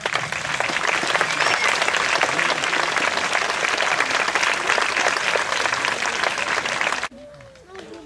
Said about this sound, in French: applaudissez vraiment très fort